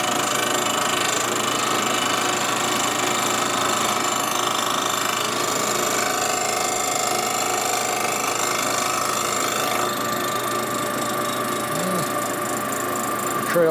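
A milling machine cuts a thin five-thousandths pass across a broken Harley Shovelhead inner primary being repaired, giving a loud, continuous chattering grind with a dense buzzing texture and a brief clunk near the end.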